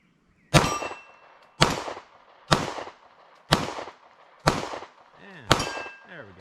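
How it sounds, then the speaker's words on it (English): Six loud Sig M18 pistol shots, fired at an even pace from a 21-round magazine at outdoor steel targets, each sharp crack followed by a ringing metallic clang that decays before the next. "Give the Sig a couple more shots here."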